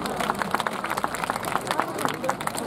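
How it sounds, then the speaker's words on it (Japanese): A crowd claps at the Okutsugaru insect-and-fire festival after a shrine maiden dance offering at Iizume Hachiman Shrine in Goshogawara, Aomori, producing dense, even applause from a moderate distance with a murmur of voices underneath. "今一度大きな拍手をお願いいたします。"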